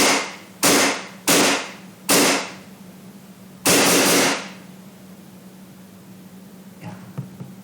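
Hi-Capa airsoft pistol firing five sharp, close, loud shots at irregular intervals, each with a brief hissy tail, followed by a few faint clicks, no talking.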